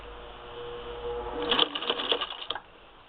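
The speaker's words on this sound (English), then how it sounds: "let's see how my stitch comes out on a knit fabric." Singer 15-91 sewing machine fitted with an antique Singer automatic zigzagger, stitching tight knit fabric: a low hum builds into about a second of rapid, rattling clatter close by, then stops abruptly.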